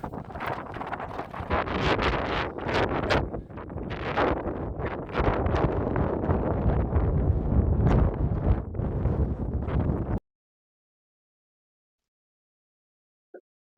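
Strong wind buffets the microphone on an exposed hilltop at the Tre'r Ceiri iron age hillfort on Yr Eifl, a loud continuous roar with gusts for about ten seconds before it abruptly cuts to silence.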